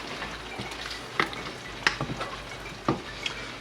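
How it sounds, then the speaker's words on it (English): Hulbata sauce simmering in a pan, a steady close bubbling hiss with three or four brief sharper clicks of a utensil against the pan. "Let us simmer together."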